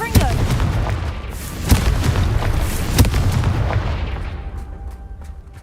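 Repeated blasts from the Confringo fire spell in Hogwarts Legacy, a run of loud, booming explosions with sharp bursts at intervals over a rumbling continuous roar that slowly fades.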